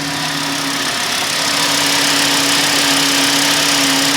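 A VW Jetta engine idles while warming up, a steady close mechanical hum with a constant low drone and no speech.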